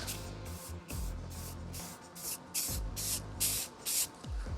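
A spray can lays a base coat of paint on a rifle suppressor in a quick series of about ten short hissing bursts with brief pauses between, close and fairly loud.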